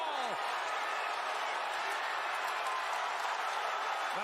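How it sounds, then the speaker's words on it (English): An arena crowd at a boxing match roars and applauds in a dense, steady wash of cheering after a landed punch, with a commentator's voice faintly over it. "The crowd eating up every single second."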